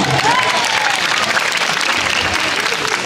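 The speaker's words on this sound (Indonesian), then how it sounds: "Artinya tepuk tangan dong." A crowd at a Balinese temple ceremony in Penglipuran claps in steady, close applause lasting a few seconds, with faint voices mixed in.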